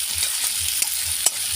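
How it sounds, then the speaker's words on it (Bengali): Whole green chillies fry in a pan of oil with a dense, steady sizzle and a couple of brief stirring knocks, heard up close. "গোটা কাঁচা লঙ্কা, ভালো করে নেড়ে নেব।"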